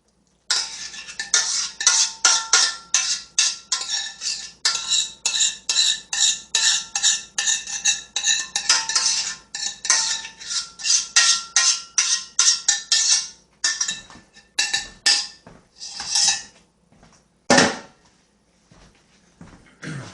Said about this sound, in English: Move the pan over here. Go ahead and put it in the baking pan.